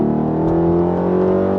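A Chevrolet C5 Corvette Z06 engine rumbles deeply through a Billy Boat Bullet catback exhaust, a loud, close, steady throaty drone with a slight rise in revs.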